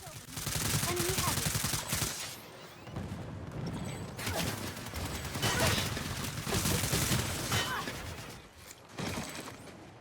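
Rapid bursts of T16 machine-gun fire in PlanetSide 2 gameplay, short volleys of several shots separated by brief pauses, loud and close over ongoing game noise.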